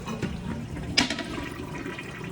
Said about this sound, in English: The toilet flush is fine.